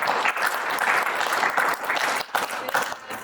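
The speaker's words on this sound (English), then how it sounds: "give them a big round of applause" An audience at an esports conference session gives a sustained round of applause for a breakfast sponsor, dense and continuous clapping from a crowd in a hall, fairly loud and steady throughout.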